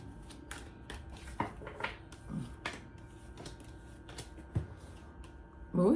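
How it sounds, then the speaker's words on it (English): Tarot cards being shuffled by hand, a series of quick crisp riffling and tapping bursts at irregular intervals, close and moderately quiet, ending in a louder rustle. "Let me give it a couple of shuffles."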